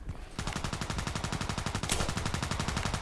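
Rapid full-auto Glock 18 pistol fire in a video game, a long steady burst of about two dozen evenly spaced shots after a brief quiet start, loud and close.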